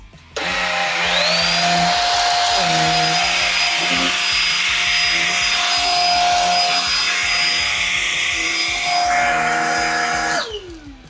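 A repaired vacuum cleaner with a turbo brush runs loud and steady, its whine rising at switch-on, shifting pitch midway, then cutting off near the end.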